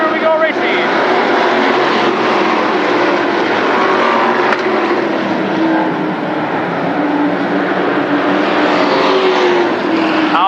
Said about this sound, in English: Green flag is out. Here we go racing.